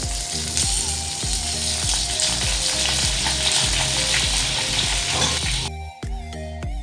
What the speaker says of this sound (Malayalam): നല്ല മൺചട്ടിയിലേക്ക് വെളിച്ചെണ്ണയും അതിലേക്ക് ഒന്ന് താളിക്കാൻ വേണ്ടി കടുകും വറ്റൽ മുളകും പിന്നെന്താ നമ്മുടെ കറിവേപ്പിലയും പൊട്ടിക്കാം